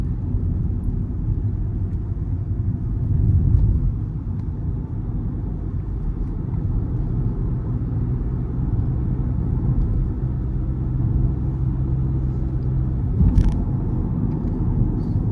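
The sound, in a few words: Honda City RS 1.5 litre petrol CVT car accelerating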